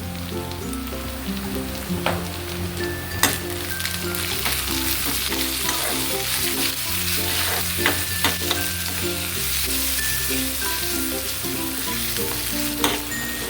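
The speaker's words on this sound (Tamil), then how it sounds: "இது கொஞ்சம் லைட்டாக ஃப்ரை ஆனது கொஞ்சம் கருவேப்பிலை அப்புறம் பெருங்காய பொடி" Curry leaves and asafoetida powder sizzle steadily in hot oil while tempering for restaurant-style creamy curd rice, a dense continuous frying crackle with a few sharper pops, close and fairly loud, no talking.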